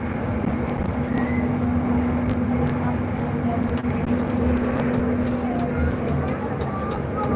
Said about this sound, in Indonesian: Jalan-jalan naik LRT ke Jakabaring.